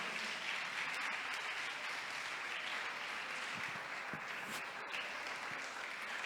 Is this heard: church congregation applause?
yes